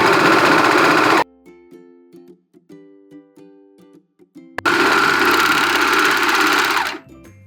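A sewing machine stitches a fabric sock in two loud continuous bursts, the first about a second long and the second several seconds long. A quiet gap of faint taps and clicks separates them.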